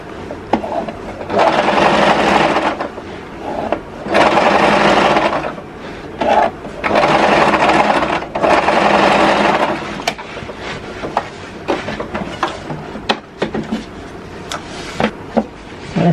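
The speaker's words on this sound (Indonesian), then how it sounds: "Selesailah menjahit kerah setali ya." A sewing machine stitching a one-piece collar on plain fabric runs in several loud bursts of rapid whirring, separated by pauses and shorter stitching spurts with small clicks and handling noises.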